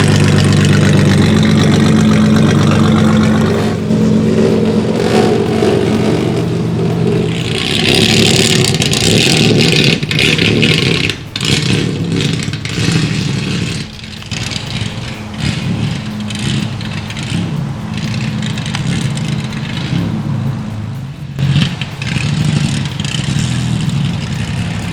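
A 1990 Pontiac 6000 with factory all-wheel drive, its engine running loud and close, holding a rough idle and then revving up and settling back in uneven surges.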